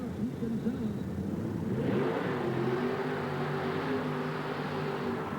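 A monster truck Jeep at a 1987 USHRA event in Oakland roars in the distance with a rising, revving engine drone under an announcer's voice and crowd noise.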